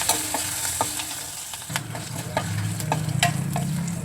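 A tempering of seasonings and turmeric crackles in hot oil for a gram-flour chutney, sharp pops and spits over a steady close sizzle that thickens partway through, with no one talking.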